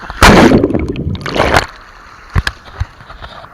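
Sea water surges and splashes loudly at a beach as a swimmer dives in, a big wash in the first second and a half, then scattered smaller sloshes and drips, with one short spoken word.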